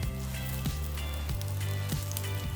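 Vegan dongurang ttaeng patties fry in a pan with a constant soft sizzle and crackle, over a low steady hum with faint pitch shifts, and no talking.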